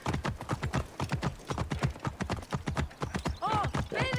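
Horse hoofbeats clop steadily in a fast rhythmic gallop while riding in Assassin's Creed Origins, close and continuous, with a brief whinny near the end.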